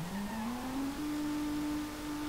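A Nissan Skyline R34 Z-Tune in Need for Speed World accelerates, its engine tone climbing steadily and then holding a steady high drone, loud and continuous with no talking.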